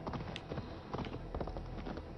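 Horse hooves clip-clop in the Assassin's Creed Valhalla video game, a quick run of faint, rhythmic thuds from a nearby trotting mount.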